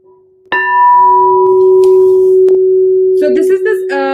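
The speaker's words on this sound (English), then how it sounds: "It's the sound of hum." A heart chakra singing bowl is struck and rings with a sustained, pure humming tone that holds steady for a few seconds before a voice begins speaking over its lingering resonance.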